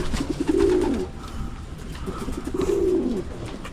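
Pigeons coo in courtship nearby, two clear rolling coos separated by a pause, over soft background ambience with no talk.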